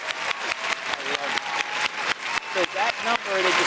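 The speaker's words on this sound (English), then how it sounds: "So we'll give a round of applause for that one too, right?" An audience at a theater season celebration claps steadily, a dense, even patter of applause sustained for several seconds with a few voices mixed in.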